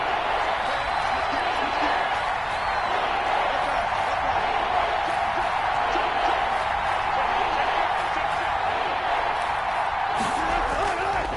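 A dense stadium crowd in a PS4 American football game roars and cheers continuously at a constant high level, with a commentator's voice talking over it.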